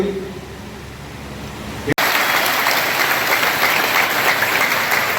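After a brief murmur of voices, loud applause bursts in suddenly and continues steadily, a dense crowd clapping at a spiritual discourse.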